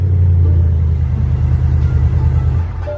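A powerful car engine revs and rumbles close by, a loud steady low growl that holds for about three seconds before easing slightly.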